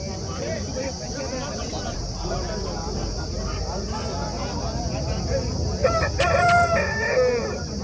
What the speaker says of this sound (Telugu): మంచి పందెం పుంజు అండి ఇది.